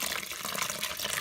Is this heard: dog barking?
no